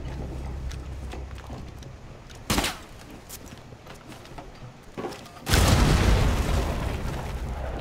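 Rainbow Six Siege gunfire comes in sharp cracks and a close burst, followed by a loud, sustained rumble of shooting and impacts in the second half.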